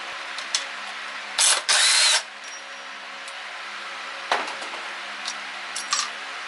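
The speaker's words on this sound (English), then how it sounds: "knock this side loose with the impact wrench" An impact wrench on a Honda CBR/VFR800 hybrid motorcycle fires two short, loud bursts close by as it works a through-bolt motor mount loose, separated by a brief gap, then a few faint clicks and clatters in the shop.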